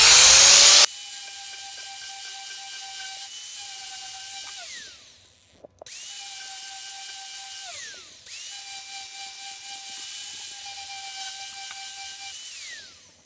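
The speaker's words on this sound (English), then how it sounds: "So we've just sanded the inside face there." A rotary power tool sanding the inside face of a carved wooden kuksa cup, a steady high whine running in long stretches that winds down and restarts, with a loud burst at the very start.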